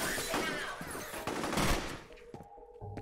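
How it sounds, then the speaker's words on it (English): Shotgun blasts from F.E.A.R. boom in a thick, loud barrage, then tail off into quieter rumbling. "I'm shooting a shotgun that shoots multiple bullets"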